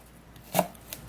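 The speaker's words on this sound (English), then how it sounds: "Cut that in cubes." A single sharp knife chop through a piece of apple being cut into cubes on a board, followed by a fainter second tap, close and alone.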